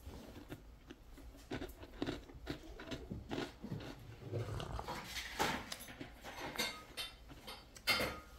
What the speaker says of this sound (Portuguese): gostou do mastigado da bolacha